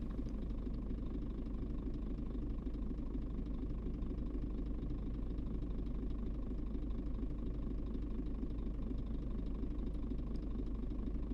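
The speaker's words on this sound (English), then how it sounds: "It sounds like a quieter engine as well" A Scania truck engine idles with a steady, low, even rumble that holds unchanged throughout, quiet and alone with no voices.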